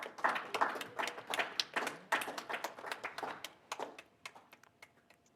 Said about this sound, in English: Please, round of applause for our sponsors.